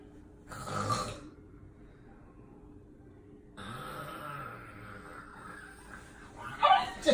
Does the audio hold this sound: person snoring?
yes